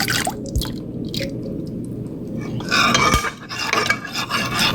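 Gelatin being stirred into cooled broth, with close, wet swishing and scraping strokes in a continuous, fairly loud rhythm and no talk.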